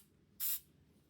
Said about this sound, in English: So let me actually spray a little bit here.